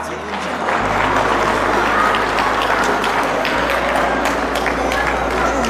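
A crowd claps steadily to welcome a couple arriving at a central square as the day's king and queen, a dense, continuous applause holding from start to finish, with voices mixed in.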